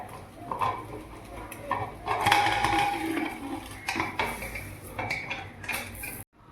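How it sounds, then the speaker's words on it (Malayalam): A metal pressure cooker lid being closed without its weight while making kalathappam, with a series of clinks, scrapes and clatters of metal on metal close by in a quiet kitchen. "അപ്പോൾ നമ്മളിത് കുക്കറൊക്കെ അടച്ചു വെച്ചിട്ടുണ്ട്"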